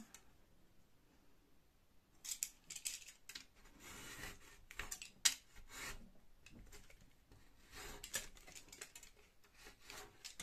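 Scissors cut through a piece of recycled material for a pencil holder, giving a close, rasping run of scrapes and snips with short pauses between them. No one speaks.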